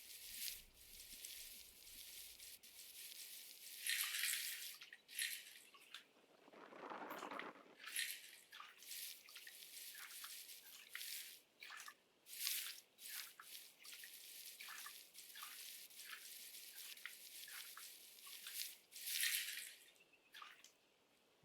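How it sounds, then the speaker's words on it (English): A gold pan dipped and shaken in water in the video game Gold Mining Simulator gives a steady, faint wash of splashing and sloshing. It swells and fades in repeated surges over about twenty seconds, with no voices. "you lower it into the water, pull it out, and you just circle it, shake it in a circle"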